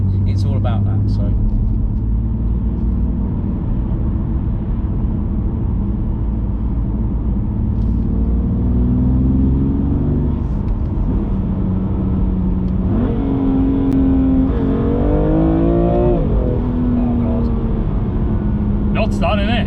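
A 720bhp 2020 Audi RS6 engine hums steadily and then revs up, the pitch climbing and falling with gear changes, loud and close, with people talking over it at times.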